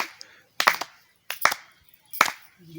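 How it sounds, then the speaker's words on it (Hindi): Three short bursts of sharp hand claps in a Sarna devotional song setting, each burst a quick cluster of loud claps separated by pauses of silence, fairly near. "ताली ठोक"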